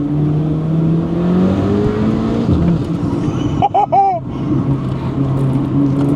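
Rear-wheel-drive Audi S3 engine droning and shifting pitch as the car is driven hard on icy back roads, a steady close-up hum with a brief rising rev in the middle.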